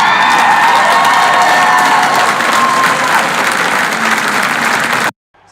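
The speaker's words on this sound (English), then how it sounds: "the crowd responded with cheers and applause." A political rally crowd breaks into loud, sustained applause mixed with cheers and shouts, a thick wall of clapping that holds steady for about five seconds before cutting off abruptly into near silence.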